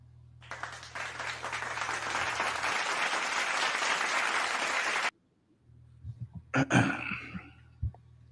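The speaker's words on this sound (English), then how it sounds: "Give us a hand clap." A short burst of hand-clapping applause plays on a podcast, starting suddenly and running about five seconds before cutting off sharply, followed by a low hum and a few brief vocal noises close to the mic.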